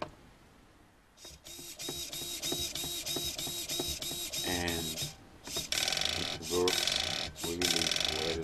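A very fast hobby servo motor from China, its upper case fixed with extra screws, runs under test with rapid, repeated whirring and buzzing gear sweeps in quick stop-start pulses that turn louder and harsher toward the end.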